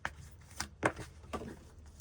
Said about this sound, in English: Your cards keep hitting the floor, Gemini, as we shuffle.